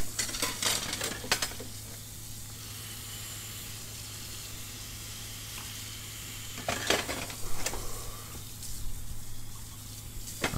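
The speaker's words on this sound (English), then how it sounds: "let's wash the dishes" Dishes being washed in the horror video game Emily Wants to Play Too: clinking and splashing bursts over a steady low hum, with quieter stretches of running water in between.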